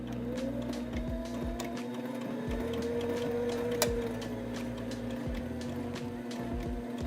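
A sewing machine stitches a half-inch fabric seam with a back stitch, running as a steady close mechanical whir and buzz with a constant hum and faint ticking throughout, without any talking.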